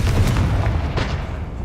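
A Confringo blasting spell detonating in Hogwarts Legacy, heard as a loud, close, rumbling boom with a sustained low roar and crackling debris, with no voice over it.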